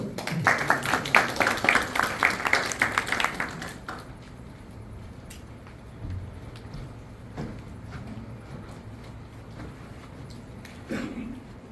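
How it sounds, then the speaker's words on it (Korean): Applause from the audience at a Goyang city policy debate, greeting the mayor's opening remarks. Dense clapping fills the first four seconds, then fades into quiet room tone with a few faint scattered sounds. "여러분 큰 박수로 환영해 주십시오"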